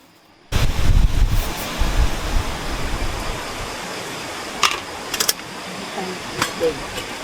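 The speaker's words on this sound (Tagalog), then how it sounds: "Lakas ng hangin." Strong wind buffets the microphone at a coastal camp, a steady roaring rush with gusty bursts throughout, and a few faint voices at moments.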